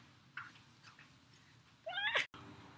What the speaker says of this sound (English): There's literally a wild cat staring at me as I'm trying to record this on my back porch.